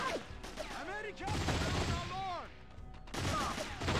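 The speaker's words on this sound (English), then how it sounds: "Dude, like, who is shooting?" Rapid rifle and machine-gun fire crackles in the Delta Force: Black Hawk Down video game, fairly faint and distant, mixed with whooshing effects and voices talking over it.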